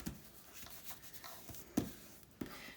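Paper being folded by hand for handmade ephemera, with soft close rubbing and creasing strokes and a couple of sharper crinkles, quiet and without speech.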